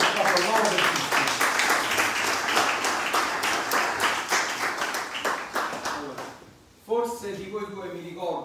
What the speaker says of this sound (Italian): Facciamo un applauso enorme per tutti.